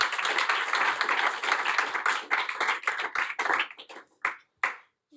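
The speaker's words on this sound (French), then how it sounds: "ça peut s'applaudir" Conference audience at a presentation of LGBTQIA+ survey results applauding in a full burst that thins out toward the end into a few scattered, isolated claps before fading to silence.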